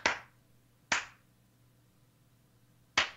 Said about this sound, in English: I'm gonna clap it out